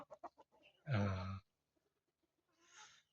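Hens offered for sale, including a large speckled bird, give a quick series of short clucks, then one loud, drawn-out squawk, followed by a softer trailing call after a brief pause.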